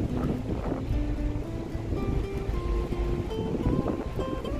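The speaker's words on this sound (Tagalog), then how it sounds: "At yung barko ay umaandar na patungong Tasmania." A large passenger ship under way toward Tasmania gives a steady low engine rumble with wind and water wash, continuous and fairly loud throughout, with faint tonal hum above and no talking.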